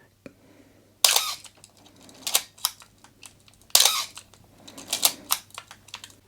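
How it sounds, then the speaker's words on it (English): A Canon AE-1 Program film camera has its shutter fired repeatedly during a squeak repair, producing two sharp mechanical clacks a few seconds apart, each followed by a rattle of smaller clicks, quiet and close. "Now we need to fire the shutter a few times to work the oil into the camera."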